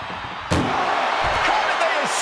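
A door slams shut inside a WWE 2K24 wrestling match, one sharp loud bang over continuous crowd noise, with an announcer talking throughout.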